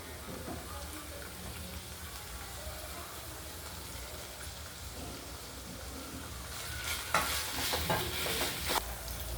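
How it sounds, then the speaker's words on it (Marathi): Chopped coriander sizzles in hot tempering for a chicken sukka, a steady soft frying hiss with a few louder crackling bursts and stirring clatter near the end, no talk. "त्यापैकी अर्धी कोथिंबीर मी फोडणीमध्ये टाकून घेणार"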